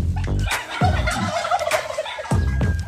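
A turkey gobbles three times in quick succession, loud and close, each call a rapid rattling burst, with no talk over it.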